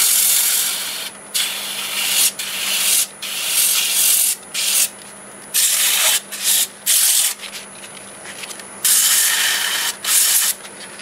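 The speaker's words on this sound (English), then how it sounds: "I'll just do a little light sanding just to expose that grain" Sandpaper rasps against wood in short back-and-forth strokes during woodturning, bursts of scratchy friction separated by brief pauses, close and steady.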